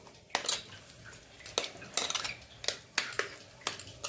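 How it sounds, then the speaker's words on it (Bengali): Mashed potato and kheer malai being beaten together by hand in a bowl for Bengali aloo khirer malpoya, giving a series of close, irregular clinks and scrapes with soft stirring between them, no voices. "এই আলু আর এই ক্ষীরের মালাইটা আমি ভালো করে এখন ফেটে নিব।"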